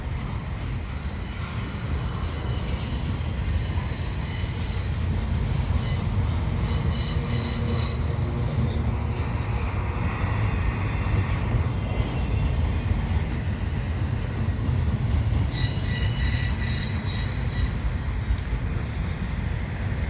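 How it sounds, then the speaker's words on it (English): A CN double-stack freight train rolls slowly past close by, a steady loud rumble of railcars and wheels with occasional high wheel squeal throughout. "I don't think I've ever gotten a double stack train at this location."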